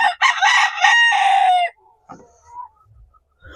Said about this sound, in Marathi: असा हा रुबाबदार कोंबडा आहे.